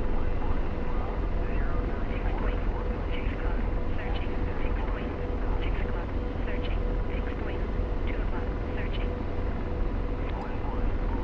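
AH-64 Apache helicopter in the DCS flight simulator flying low over the ground, a steady loud rotor and turbine drone with continuous rumble throughout.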